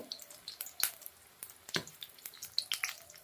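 Stuffed cabbage pakoras frying in hot oil, giving faint scattered crackles and pops with occasional sharper spits, heard alone.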